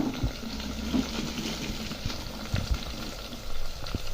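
Turmeric and spice powders go into hot oil for masoor lentil dal, making a close, bubbling, frying hiss with a few stirring knocks and small bursts.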